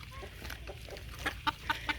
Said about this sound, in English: Oh, Mr. Rooster, I see you've made it over here.